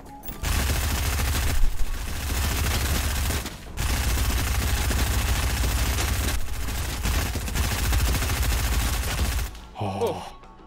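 Sustained SMG fire in a video game aim duel, loud dense bursts of rapid shots with short gaps between strings, ending in a brief lull.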